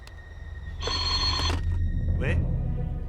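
A telephone rings once over a telephone line in a 1930s-era Chinese police office. The ring is short and electronic, followed by a brief noise, with a low rumble underneath.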